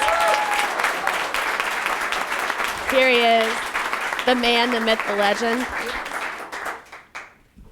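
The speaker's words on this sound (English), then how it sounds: "let's give him a big shout out, big round of applause" A 1 Million Cups audience applauds a departing organizer on his last day, continuous clapping with someone talking loudly over it in bursts before the sound drops off abruptly at the end.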